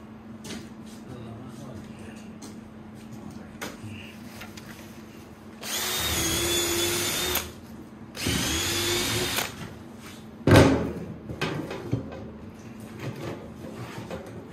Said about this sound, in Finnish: Tuolla porakone isommallakin terällä.